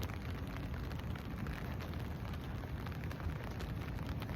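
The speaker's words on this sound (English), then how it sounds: "This rain is distracting." Steady, even hiss of rain falling outdoors, continuous and fairly faint with no voices or distinct drops standing out.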